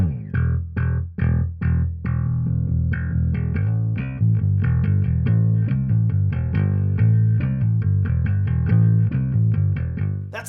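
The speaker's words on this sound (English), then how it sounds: "That's the sound of your bass through your amplifier head, into your cabinet, and out of your speaker." Electric bass played through an amplifier head into a speaker cabinet, heard alone as a loud riff of plucked, sustained low notes with a few separate hits at the start and then a steady run of tones.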